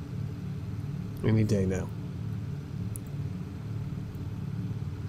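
Bomber aircraft engines in Bomber Crew running as the plane takes off, a steady low droning rumble throughout, with someone briefly speaking over it.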